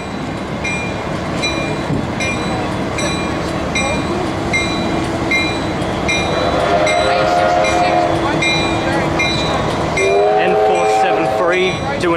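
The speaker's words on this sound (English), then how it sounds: "Oh, listen to that bell." At a railway workshops open day, locomotive N473 sounds its bell: a ringing metallic tone that carries over a dense, steady wash of crowd and rail-yard noise, with people talking nearby.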